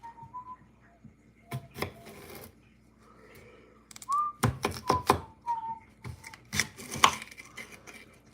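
A knife chops through a potato on a cutting board to halve it lengthwise, with a handful of sharp, close thuds that come in irregular clusters. Soft whistling and faint kitchen noises sit between the cuts.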